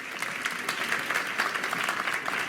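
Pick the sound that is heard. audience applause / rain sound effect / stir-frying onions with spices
audience applause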